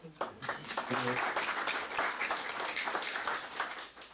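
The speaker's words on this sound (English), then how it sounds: "Round of applause." Audience applause fills a talk about grid modernization, a dense, steady crowd clapping that carries on for about four seconds after a speaker is thanked.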